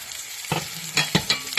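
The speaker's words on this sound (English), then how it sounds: "Now once it's like sizzling like this," Italian herb crusted pork chops sizzle and spit in a hot pan, a loud steady fry broken by several sharp bursts as the meat is stirred or turned with tongs.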